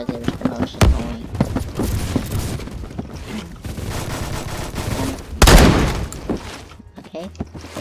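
Rapid shotgun blasts from an AA-12 automatic shotgun in a first-person shooter game, dense loud repeated reports with one especially heavy burst near the end, mixed with game effects.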